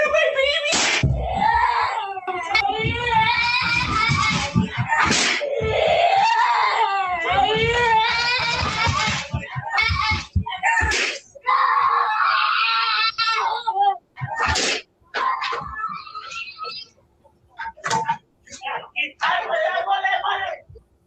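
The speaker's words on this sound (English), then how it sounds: "the baby's screaming because the baby knows something is going on" A baby screams and cries loudly in repeated sobbing bursts, close and harsh, broken by short gaps, with adult voices and shuffling noises mixed in.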